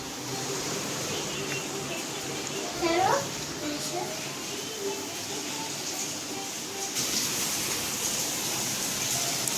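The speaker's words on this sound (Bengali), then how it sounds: "অনেক বৃষ্টি হচ্ছে।" Heavy rain outside makes a steady broadband patter throughout, while a voice and other speech rise over it now and then.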